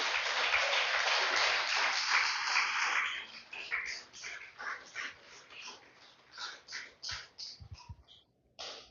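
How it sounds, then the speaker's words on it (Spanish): Clapping fills a church service in honour of the King, a dense broadband burst for about three seconds that breaks up into scattered, quieter individual claps and fades out. "Denle un fuerte aplauso al Rey que vive en mí"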